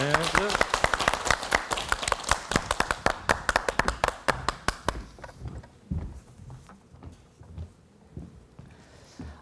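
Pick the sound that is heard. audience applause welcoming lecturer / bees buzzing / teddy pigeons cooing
audience applause welcoming lecturer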